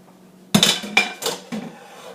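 Sautéed carrots, onion and garlic tipped into a soup pot for gluten-free chicken noodle soup, giving a few loud clattering knocks and clinks of utensil against pot over about two seconds, close up with no talk.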